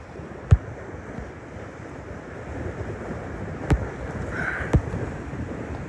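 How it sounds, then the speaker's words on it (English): Wind-driven waves crash on a lake during extreme storm conditions, a continuous rough roar of surf and wind buffeting with a few sharp thumps. "Some of the waves I can see crash up over top of these treetops."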